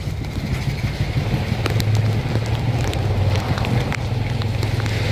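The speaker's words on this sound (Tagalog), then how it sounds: "Ang ulan." Steady rain hisses heavily across the whole stretch, with scattered sharper patters and a low rumbling hum underneath.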